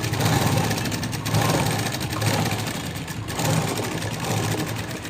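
A sewing machine top-stitches the front part of a blouse, running in a loud, steady, fast mechanical whir with a slight pulsing rhythm, close and uninterrupted by talk.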